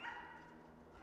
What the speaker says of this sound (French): C'est le chien.